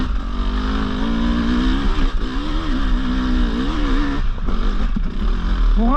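A 2024 Husqvarna 300 TE motorcycle engine under way, its loud, steady two-stroke drone wavering in pitch as the throttle eases and lugs in second gear, closely miked throughout with wind rush.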